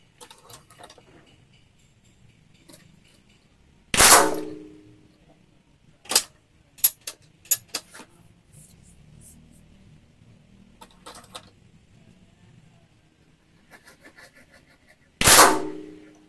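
Two sharp, loud shots from a Ruger Biggame 6000 PCP air rifle firing Hercules pellets, several seconds apart, with faint clicks and handling noises of reloading in between.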